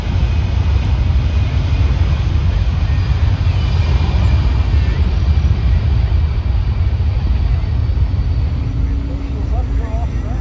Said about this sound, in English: Let's watch as the C-17 takes to the skies